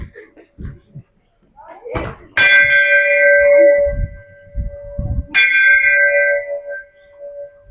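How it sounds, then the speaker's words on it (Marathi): A temple bell is struck twice, each ring bright and loud before slowly fading, with voices talking nearby. "घंटी वाजवतोय"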